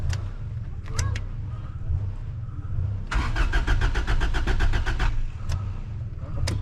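A battery-started lawn mower engine cranks in a short burst, then gives a longer run of rapid, rhythmic starter chugs over a steady background rumble, close by, with brief clicks around it.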